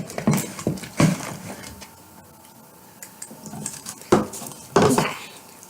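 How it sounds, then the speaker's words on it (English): Butter slime worked with a broken popsicle stick: close, sticky clicking and tapping strokes in irregular clusters, with quieter gaps between. "The slime is so hard to mix."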